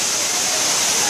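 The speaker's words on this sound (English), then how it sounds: "Big fountain. Now the waterfall." A waterfall pours steadily inside an indoor tree dome, a dense, even wash of falling water that stays loud and close for the whole moment with no break.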